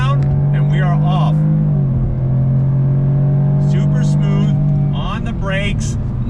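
A 2021 Jaguar F-Type's engine pulls steadily and loudly under throttle, dipping briefly as the automatic gearbox shifts down and then building again, while a person talks over it throughout.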